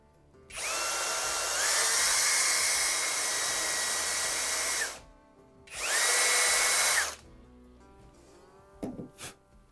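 A power drill countersinking wood whines at high speed for about four seconds, stops, then runs again in a shorter burst before a few faint knocks.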